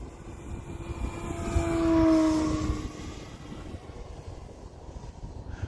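A small engine-driven Arrows Husky 1800mm RC airplane whooshes past at speed on a high-speed pass into 15 mph wind, its pitch rising then falling as it swells and fades against steady wind noise.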